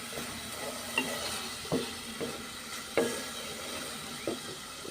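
Raw spices are sautéed in a pan for a rohu fish curry with vegetables. A low steady sizzle runs throughout, broken by several distinct scrapes and clinks of stirring against the pan, close up and fairly quiet.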